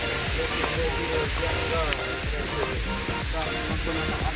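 Water spills over the Saradih barrage in a loud, continuous rushing hiss close by, with people talking over it.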